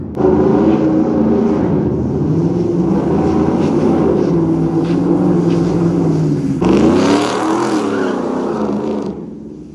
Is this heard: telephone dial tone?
no